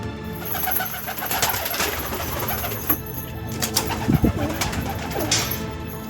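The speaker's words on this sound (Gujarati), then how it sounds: "ખોળો કબૂતર ખોલી નાખી." Pigeons released from their coop coo and flutter nearby, soft repeated throaty calls over a steady outdoor background, with a few brief louder wing flaps.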